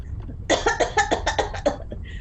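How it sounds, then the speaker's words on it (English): A person with a cough that has lasted a couple of days lets out a rapid burst of about eight harsh, loud, close coughs, followed by a short breath. "I've had this cough for a couple of days now."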